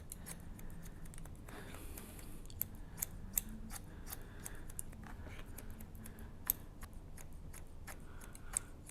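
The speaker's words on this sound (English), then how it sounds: "the technique of the scissor over comb" Scissors snip mannequin hair with the scissor-over-comb technique, a quiet close run of light, rapid clicks and sharp ticks over a faint background hiss; no talking.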